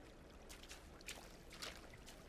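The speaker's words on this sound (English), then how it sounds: "Oh look, we make splashes now." Water splashes in the underwater-city setting of BioShock Infinite: Burial at Sea, a few soft sloshing bursts over a steady, even background hiss.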